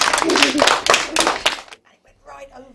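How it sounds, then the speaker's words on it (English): Schoolgirls clapping in a classroom: a burst of quick, fairly loud claps for about a second and a half, then fading into quiet with faint voices talking. "And give them a clap"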